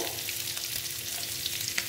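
Steady, close crackling sizzle of eggs frying in oil, with a few sharper pops scattered through and no voices.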